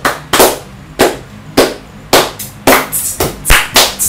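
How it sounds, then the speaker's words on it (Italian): A few people clap in irregular bursts after congratulations on reaching 50 subscribers, sharp and close, with about eight loose claps in four seconds and no talking. "Un applauso."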